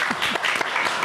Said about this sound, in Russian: Аплодисменты «Маяку».